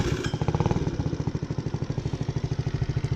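A small Grom clone motorcycle, just set up out of the crate, fires up and settles into a loud, close, rapid chugging idle with an even, steady pulse.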